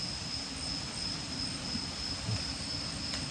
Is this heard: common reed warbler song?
no